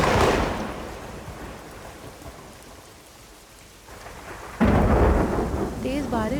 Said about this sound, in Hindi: तेज बारिश पूरे गांव को भिगो रही थी